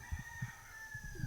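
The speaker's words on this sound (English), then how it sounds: "We have the rooster." Rooster vocalizing on Kauai, heard as a few short low bursts repeating over a steady background hum, fairly close but not loud.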